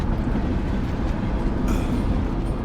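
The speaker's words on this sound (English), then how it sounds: "We're riding the train." A train in a video game rumbles steadily and loudly as the player rides it, a low continuous mechanical drone without breaks or speech.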